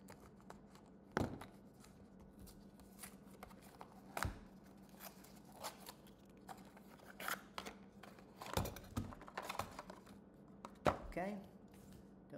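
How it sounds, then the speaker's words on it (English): Scissors cut through packing tape on a trading card game box, several sharp snipping and crackling bursts spaced apart amid quiet handling and rustling. "there's tape on this, so we're gonna use scissors here."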